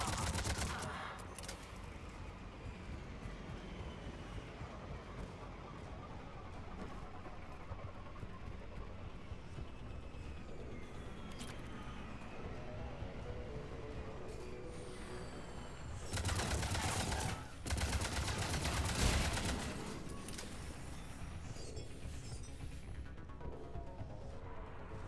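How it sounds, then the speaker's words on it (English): Gunfire in the video game Mass Effect 3 runs as a steady rattle of shots through a dense battle mix, swelling into louder bursts of firing toward the end. "Liara, you can't be jumping in front of my shots like that."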